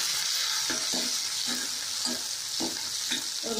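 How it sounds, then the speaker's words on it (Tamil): Shallots, green chili, curry leaves and brinjal sauté in a pan with a steady, close sizzle, broken by regular soft scrapes of a spoon stirring every half second or so. "சேர்த்து நல்லா வதங்கட்டும்"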